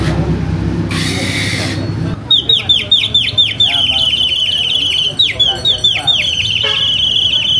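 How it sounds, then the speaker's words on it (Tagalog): A bird-sound firework gives rapid, repetitive high-pitched chirping whistles at a New Year fireworks stall in Bocaue, Bulacan, loud and close, repeating in quick bursts after a short hiss of noise. "Ah, tunog ng ibon."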